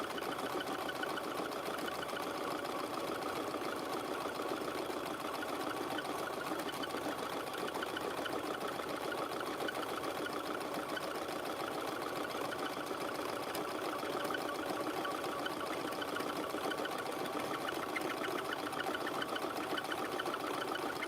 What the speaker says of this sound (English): This is just a regular, cheaper Singer sewing machine.